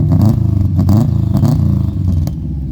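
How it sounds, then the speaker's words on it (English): A nearby built blob-eye Subaru WRX with a catless downpipe revs in short bursts, a rough, throbbing exhaust note swelling and easing over a few seconds. "Rev it up."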